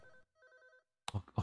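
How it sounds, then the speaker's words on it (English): A telephone rings in the horror game Unspoken, two short trilling electronic bursts heard faintly and close, followed by sudden louder thumps or noises. "A phone."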